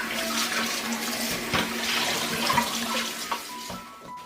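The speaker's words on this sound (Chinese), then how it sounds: "然后再用清水多冲洗几遍" Chicken wings rinsed under a running kitchen tap, a steady close rush of flowing water with a few small splashes and knocks as the pieces are handled, no talk.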